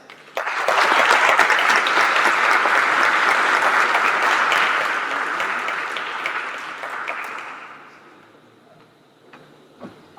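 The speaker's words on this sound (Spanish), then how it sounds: "Recibamos a Daniela Vélez con un caluroso aplauso." Warm applause fills a congress hall on ethics and integrity as a speaker is welcomed, starting abruptly, holding dense and loud for several seconds, then thinning out and fading to near silence.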